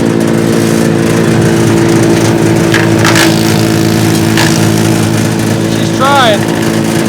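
A Mechmaxx DCH7 wood chipper engine runs loud and steady while branches grind and catch around the roller, with crunching, splintering bursts over the drone and people talking.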